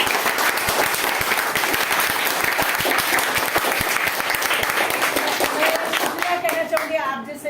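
An audience at an interview event applauds in a dense, loud, continuous burst of clapping that holds steady and then thins toward the end, with a voice faintly starting over the fading claps.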